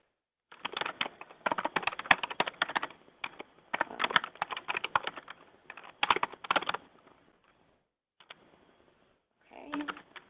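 Rapid typing on a computer keyboard in bursts of clustered keystrokes, with short pauses between runs, close and fairly clear, alone without talk.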